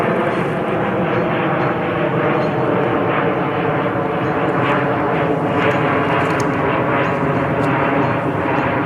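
Airplane engine noise near O'Hare International Airport: a loud, steady, continuous roar that drones on without break.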